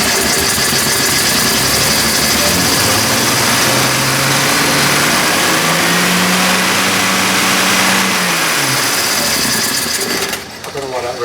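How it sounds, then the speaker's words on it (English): A Triumph TR6 engine under restoration cranks and catches, then revs up and down with a rising and falling drone for several seconds before cutting off; loud and close. "I'm ready to have another go at starting it"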